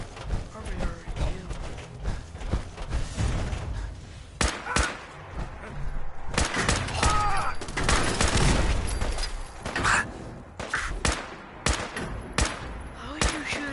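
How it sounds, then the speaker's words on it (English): Shotgun and rifle fire from the video game Fallout 4 cracks out in scattered sharp reports and short clusters, some distant and some close, while a person talks over the action. "How are you shooting a shotgun from that distance?"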